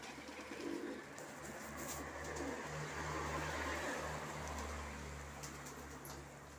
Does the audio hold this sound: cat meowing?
no